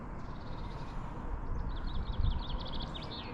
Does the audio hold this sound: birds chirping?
yes